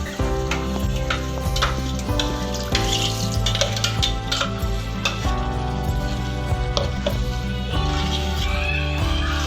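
Ground spinach is added to paneer frying in a pan for palak paneer, a loud continuous sizzle with stirring and scraping, close by and steady throughout.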